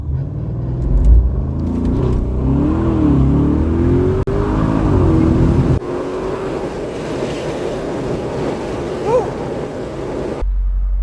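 A tuned Audi SQ7 SUV of almost 700 horsepower accelerates hard on a drag run, its engine climbing in pitch through the gears, loud and close, with a deep rumble before cutting off.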